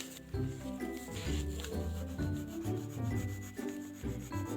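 Dry vintage art sticks rub and scratch across paper in short, repeated strokes, a soft close-up scraping rhythm with no voices.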